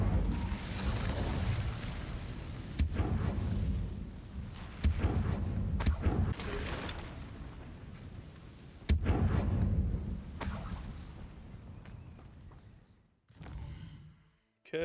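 Incendio fire spells in Hogwarts Legacy flare as several loud whooshing blasts, each a broad burst that swells and fades, against ongoing game noise before dying away near the end.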